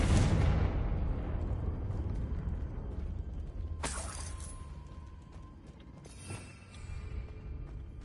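A Confringo blasting spell goes off in Hogwarts Legacy inside ancient ruins at a witch's sarcophagus. It gives a loud broadband blast with a long rumbling tail, and a second sharp crack and burst of debris follows midway.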